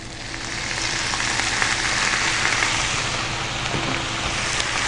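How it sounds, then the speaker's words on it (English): Greens and coconut milk sizzle steadily in a pot of curried sweet potato greens, a close, continuous hiss and crackle with no talking. "all my greens are going in the pot. And I'm just going to hit it with some coconut milk."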